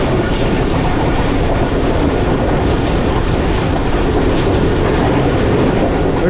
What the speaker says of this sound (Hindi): कराकरम एक्सप्रेस उसे ओवरटेक करने के लिए आगे बढ़ रही है